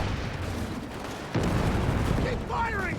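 Company of Heroes 3 battle in an urban assault, with mortars and light infantry guns firing. Dense, rumbling gunfire and artillery booms run throughout, a heavier burst lands partway in, and a commentator talks over the fighting.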